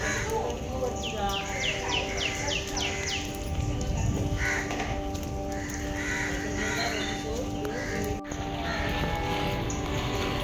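Crows caw repeatedly along the forested circumambulation path around Ganpatipule temple in Konkan. A quick burst of calls comes early, followed by scattered fainter calls over a steady outdoor background.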